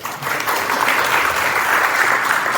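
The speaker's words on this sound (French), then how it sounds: "On l'applaudit s'il vous plaît." Applause from an audience at a tourism and content-creator event, a dense, loud, continuous wash of clapping from many hands.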